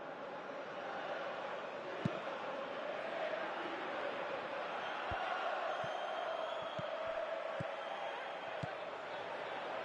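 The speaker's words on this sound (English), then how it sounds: "you can feel and hear how the crowd are reacting to all of this." A stadium crowd in the football video game PES 2018 keeps up a steady roar of murmuring, with a few sharp thumps scattered through it.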